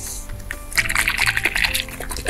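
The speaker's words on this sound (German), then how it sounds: "Das noch zudrehen und schütteln." Sloshing liquid rattles in a closed baby bottle of formula being shaken, a burst of dense swishing that starts abruptly and carries on for under two seconds, close and fairly loud.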